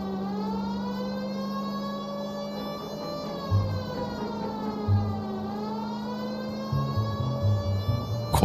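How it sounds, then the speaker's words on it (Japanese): A police car siren in the video game L.A. Noire wails loudly and steadily, rising and falling in pitch, with engine rumble and some bumps beneath it. "サイレンうるせえ。"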